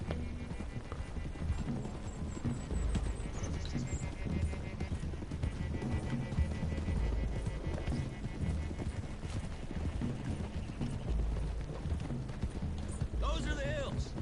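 Horses' hooves clip-clop steadily while riding in a western video game, with a continuous rhythmic trot under a busy mix of game sound and talk, and a brief whinny near the end.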